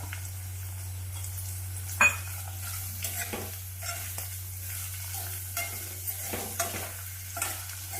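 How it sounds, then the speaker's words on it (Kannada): Onions fry in oil in a pan for vegetable rava upma, a soft steady sizzle with occasional scrapes and stirring knocks of a spoon against the pan, a constant low hum underneath. "ಒಂದು ಐದು ನಿಮಿಷ ಫ್ರೈ ಆದರೆ ಸಾಕು ಈರುಳ್ಳಿ ಹಾಕ್ಕೊತೀನಿ"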